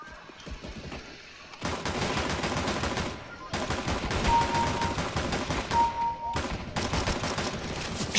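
Rapid pistol gunfire in the first-person shooter game CS:GO, fired in fast bursts of shots with short gaps, loud and close, with no talk over it.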